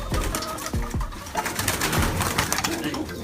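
A racing pigeon, a stock breeding bird, coos close by, a few low, throaty, rolling calls over faint background noise.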